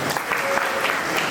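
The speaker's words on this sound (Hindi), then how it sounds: "आप सबकी ओर से एक बार आशीर्वाद जोरदार तालियों से" Dense, enthusiastic applause from a crowd at an evening cultural program on the eve of Chitragupta Puja, honoring the performers; a short, steady burst of many hands clapping together.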